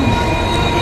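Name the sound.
link express train arriving at platform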